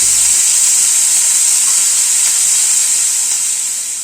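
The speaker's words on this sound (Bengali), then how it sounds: "গ্যাসের ফ্লেমটাকে কমিয়ে দিয়ে পেঁয়াজটাকে ভাজবো।" Chopped onion frying in oil over a low gas flame gives a loud, close, continuous hiss of sizzling that holds steady throughout and fades slightly at the end.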